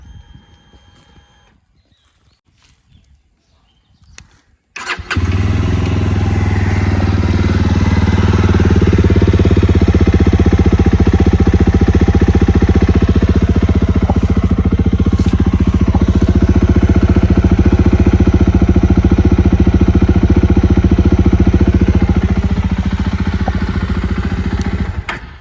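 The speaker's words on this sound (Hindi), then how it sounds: "तो ये है जावा बॉबर 42 की साउंड।" A 2024 Jawa Bobber 42 with dual exhausts cranks after a few quiet seconds of faint clicks, catches, and settles into a loud, steady, close-up thumping idle that runs uninterrupted to the end.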